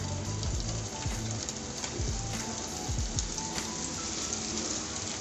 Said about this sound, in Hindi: अब मैं अपने कबाबों को 1 बाय 1 शैलो फ्राई करूँगी।